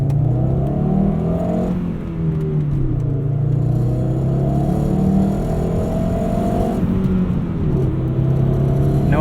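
A 1997 Volvo 850 R with a 5-speed manual pulls at wide open throttle, its engine drone rising and shifting pitch through gear changes. A rattle sits under the steady loud engine noise, hard to pick out.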